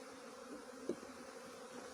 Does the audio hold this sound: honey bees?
yes